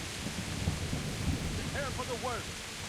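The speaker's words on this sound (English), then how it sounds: "it's horrible weather out here. It's pissing down with rain." Heavy downpour and rolling thunder in the video game Kingdom Come Deliverance, a dense continuous rain hiss with low rumbling, and a brief voice-like call partway through.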